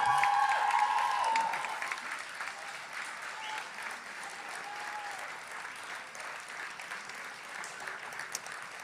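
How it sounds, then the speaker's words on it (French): Graduates at a university graduation ceremony applaud, a dense, sustained clapping that is loudest at first, then eases to steady, slightly thinner applause. "Levez-vous, gradués, et applaudissez à votre tour."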